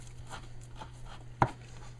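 A knife taps softly on a board as fresh rosemary and oregano are chopped fine, ending in one sharper, louder chop over a faint background hum.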